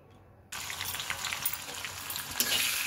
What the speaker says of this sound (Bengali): এখন পোলাও চাউলগুলো দিয়ে ভেজে নিয়ে